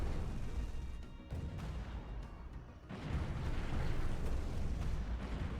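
Spaceships in Stellaris firing weapons at a target, heard as a steady roar of rumbling, crackling blasts that swells louder partway through, with no speech.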